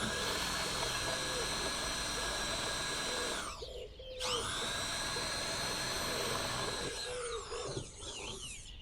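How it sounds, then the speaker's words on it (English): A power drill bores into a roof tile through a small pilot hole. It gives a steady, loud high whine that dips briefly and changes pitch as it slows and spins back up, with no speech. "we've got this small pilot hole that we drilled with the smaller drill bit"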